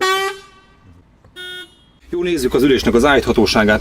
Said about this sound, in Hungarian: A kormányon van egy légkürt, illetve egy duda.